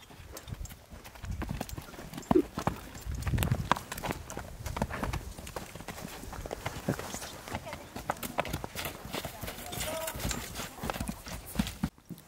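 A stallion for sale in Batken walks on hard ground, its hooves clip-clopping in an uneven rhythm close by, with people talking throughout.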